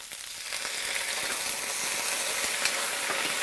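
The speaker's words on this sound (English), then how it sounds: "brown around the edges, in goes the cabbage." Cabbage sizzles and fries in a hot pan, a steady, close crackling hiss with small pops throughout, unbroken by talk.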